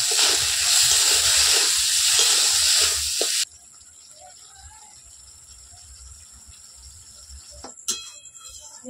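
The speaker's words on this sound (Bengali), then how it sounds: "এবার মশলাটা খুব ভালো করে কষিয়ে নেব।" A ground paste of tomato, coriander, cumin and salt fries in a pan with a loud, close sizzle for a few seconds, then quiets to a faint simmer broken by a light clink.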